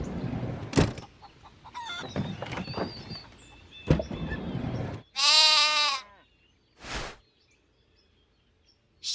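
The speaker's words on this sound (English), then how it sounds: "Sheep." A sheep bleats once, loud and wavering, after stretches of farmyard clatter and noise, followed by a couple of short sharp bursts.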